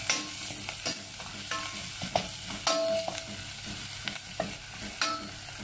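Food stirred and frying in a pan, a steady sizzle with repeated scraping and clinking of a utensil against the pan at close range, no voices.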